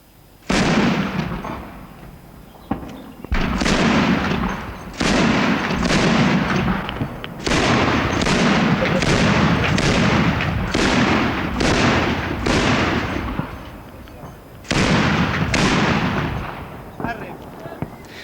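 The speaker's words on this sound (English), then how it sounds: "The gun they used was built as an anti-aircraft weapon and fired 20mm explosive shells." A 20mm anti-aircraft gun turned on houses in Lebanon's 1976 civil war fires repeated sharp explosive blasts in bursts, each a loud broadband crack with a ringing tail, over steady low battlefield rumble.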